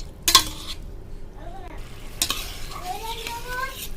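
Potatoes sautéed in a pan with boiled chickpeas, a spoon scraping and stirring in a few clattering strokes over a soft, low sizzle, close and moderately quiet.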